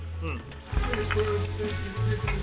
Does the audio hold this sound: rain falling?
no